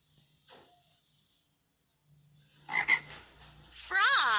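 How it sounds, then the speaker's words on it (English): A frog croaking in a short sequence of raspy calls, with a brief faint croak first, then a louder burst of rattling croaks and a final strong, warbling call, close and clear with no talking. "Frog."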